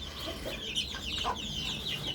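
Hens clucking softly in short bursts, with a faint chick peep or two, against a low steady background hum.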